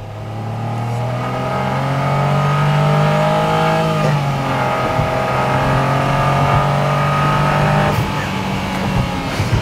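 Honda S660 2015 small turbocharged engine heard through the open rear window while driving slowly, a loud steady drone with rising and falling revs and harmonic whine, dipping around shifts, close and clear with no talking.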